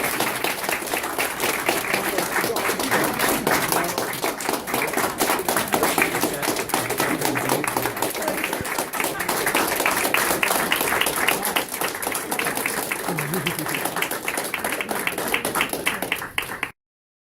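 Sustained audience applause at an event honoring diversity in veterinary medicine, a long, dense patter of many clapping hands that stays steady and fairly loud before stopping suddenly at the end.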